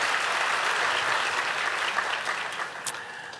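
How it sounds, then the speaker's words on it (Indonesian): A church congregation claps together in sustained, dense applause, loud and even throughout before tapering slightly near the end, with no voices standing out. "Kasih tepuk tangan bagi Tuhan Yesus."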